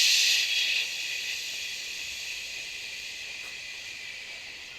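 A long breathing-exercise exhale pushed through closed back teeth, a steady hissing 'psh' that starts strongest and slowly fades over about five seconds, heard alone.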